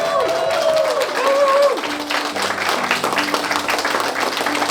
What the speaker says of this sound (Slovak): Môžeme teraz potleskom privítať manželov Ferencových.